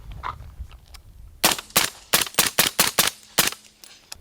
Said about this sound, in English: we're gonna be using this BRN 180 chambered and 300 blackout